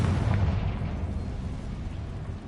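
Confringo blasting spell in Hogwarts Legacy, heard as a loud, sustained low rumbling blast with a dense booming roar that holds for the whole stretch and eases slightly at the end.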